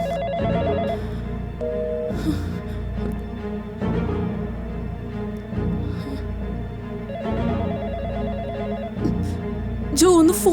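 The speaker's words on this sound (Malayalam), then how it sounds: "ജോ ഒന്ന് ഫോൺ എടുക്ക് ജോ." A telephone ringing indoors in repeated short electronic trills, a burst near the start and another later, while people talk over it.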